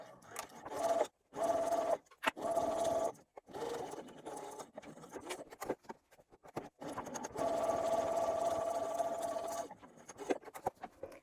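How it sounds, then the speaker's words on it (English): A sewing machine hums in steady bursts as it stitches down the edges of a bag lining, stopping and starting several times with short pauses between runs. "And now we're going to sew down these edges at 3/8 of an inch."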